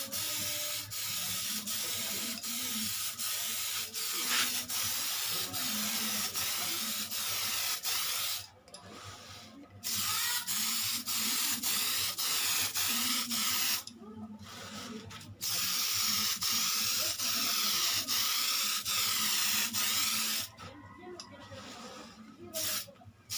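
Tamiya clear coat sprays from a can onto a model car body in light, overlapping coats. Three long, steady hissing bursts, each several seconds, are separated by short pauses, close and fairly quiet.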